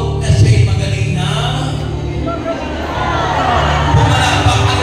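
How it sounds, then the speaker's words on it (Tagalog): A congregation at a healing service erupts in loud, overlapping shouting and cheering, a dense, sustained crowd roar with mixed voices throughout. "isigaw na siya'y magaling na."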